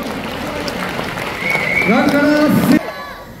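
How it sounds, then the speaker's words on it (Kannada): A reality-show audience applauding loudly, a dense wash of clapping and crowd noise with a host's voice over it, swelling toward the end before cutting off abruptly. "ಜೋರಾದ ಚಪ್ಪಾಳೆ."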